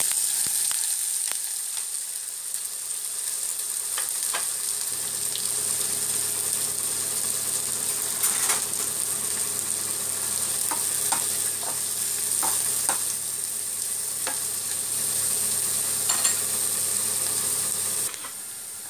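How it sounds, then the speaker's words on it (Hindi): Onions frying in oil in a pan for a soya chaap dish, a steady bright sizzle held throughout with scattered spoon scrapes and clicks, close and alone without any voices. "अब हम ऑयल में जो है अनियन फ्राई करेंगे।"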